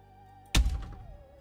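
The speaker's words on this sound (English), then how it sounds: "I heard a loud banging on the door as the elevator started taking off." One heavy, booming thud of aggressive banging on a door lands mid-way, then rings out and decays over a soft, sustained musical drone.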